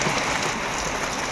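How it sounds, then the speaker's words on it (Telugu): Heavy rain falls on a village, a close, continuous rushing hiss of drops striking surfaces with no voices. "ఇక్కడికైతే చాలా వాన వచ్చేసింది ఈ పొద్దు."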